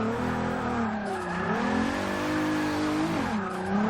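A turbocharged VR6 engine in a front-wheel-drive MK3 Golf revs hard under load with a loud, rising and falling buzzy drone, its pitch sweeping as the car accelerates and the tires work for grip, heard close and continuous.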